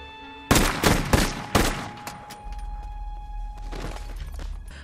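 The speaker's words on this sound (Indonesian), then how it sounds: "perampok itu masih tersadar dan ia menembaki Rick beberapa kali" Several sharp gunshots ring out in quick succession during a robbery scene in a film, loud and close, followed by a lower rumbling background.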